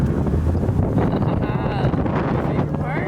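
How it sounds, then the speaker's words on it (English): Strong gusty wind roars into a car cabin on a blustery day in Amarillo, Texas, a steady rumbling buffet with a low engine drone underneath. "It's really windy out in Amarillo, Texas."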